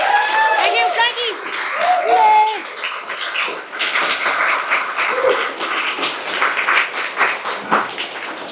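An audience at an album launch at an arts studio breaks into applause, loud at first and then tapering into scattered clapping, with a voice talking over the start.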